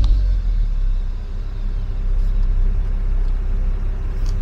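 A BMW E60 523i engine runs at a steady, deep idle, heard close with a continuous low rumble and no voices over it.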